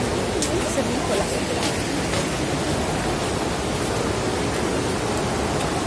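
The Little Rangit River flowing beneath the Bijanbari motorable bridge in the dry season, a steady broadband rush of water, loud and continuous throughout.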